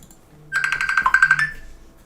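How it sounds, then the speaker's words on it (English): A mobile phone ringtone goes off during a ranked game session, a bright electronic trill of rapid repeated beeps lasting about a second, close and loud against a quiet background. "that was my phone going off"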